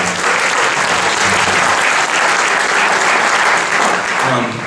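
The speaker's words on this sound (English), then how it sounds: "give them a hands of applause" Loud, dense applause from the audience at a tech meetup on iBeacon and retail, continuous clapping throughout with no break.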